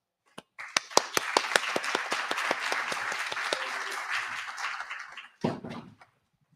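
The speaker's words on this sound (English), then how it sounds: "please allow me to welcome Mr. Sudhir Shetty with a huge round of applause." An audience at a business talk on startup investment breaks into applause, starting with a few separate claps that swell into dense, sustained clapping before fading out with a last scattered burst.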